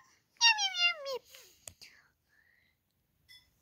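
A voice imitates a cat's meow with one drawn-out, falling meow up close, followed by a few short, softer vocal sounds and then quiet.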